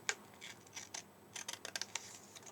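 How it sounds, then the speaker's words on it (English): Fancy craft scissors snip along the edge of lilac paper, making a series of quiet, crisp clicks and cuts that come closer together toward the end, with no talking. "with fancy scissors, where I've got the points of the scissors, I'm putting those points right along the edge of the lilac"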